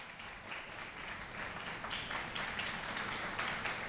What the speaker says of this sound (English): When I'll say clap, you will clap.